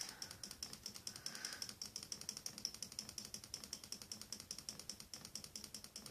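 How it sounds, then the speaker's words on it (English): Rapid, steady clicking of a computer mouse, repeated many times in a fast even rhythm at close range, fairly faint, with no talking over it. "That clicking is me with my mouse."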